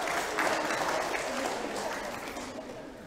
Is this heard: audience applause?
yes